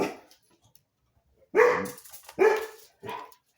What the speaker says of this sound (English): Pardon my dogs, they're wanting to get in on this.